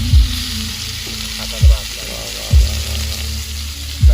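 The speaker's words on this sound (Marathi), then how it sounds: "खेकडा पूर्ण तेल मसाला लावून झालाय आणि आता आपण फ्राय करायला घेतोय" A crab coated in oil and masala fries outdoors at night, a loud, close sizzle running throughout with four heavy low thumps spaced roughly a second apart; there is no clear speech.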